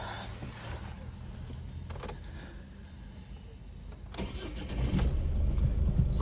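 A 2009 Ford Focus 1.6 TDCi diesel is started: a brief cranking burst gives way to a steady, moderately loud mid-pitched idle that swells slightly near the end, heard from inside the car with no talking.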